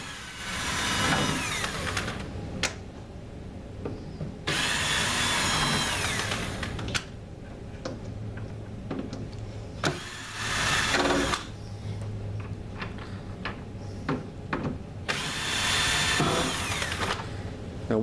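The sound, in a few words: power drill removing gold screws from ES1000 unit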